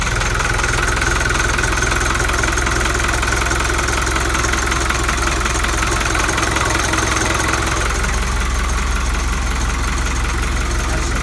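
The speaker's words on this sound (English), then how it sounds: "That's the way these engines start." A 135 hp Hino diesel marine engine on a boat runs loud and close, idling with a steady knocking diesel clatter and vibration, the tone shifting slightly partway through.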